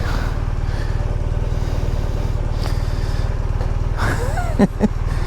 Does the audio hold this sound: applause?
no